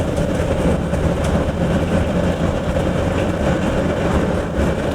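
A Newmar motorhome cruising along Highway 99 gives a loud, steady road rumble. A broad low drone of tires and engine continues evenly with light rattling, heard from inside the cab with no talking.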